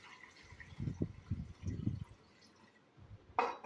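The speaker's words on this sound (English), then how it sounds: "pour that off in the bucket again" Muddy gold-panning water is poured off into a bucket in a few short, low sloshing bursts, followed by a brief brighter splash near the end.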